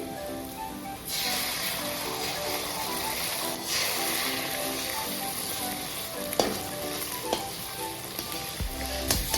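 Beaten eggs fry with onions in a pan, a steady, close, loud sizzle like light rain, with a few sharp spatula clicks near the end, no talk.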